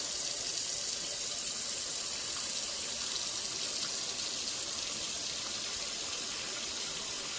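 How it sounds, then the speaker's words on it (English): Hot water runs from a kitchen faucet into the sink, a steady, even rush of flowing water that continues without a break throughout. "I'm gonna turn on the hot water"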